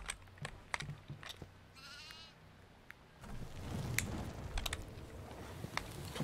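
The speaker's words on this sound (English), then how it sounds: "The goat's right here" Short goat bleats from the horror video game Devour ring out, one clear wavering call near the start followed by fainter bursts over rumbling game ambience and clicking sounds.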